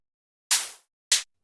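Two crisp open hi-hat hits from a sample in FL Studio, the first a long airy wash fading out, the second shorter and choked, close and dry with no other sound.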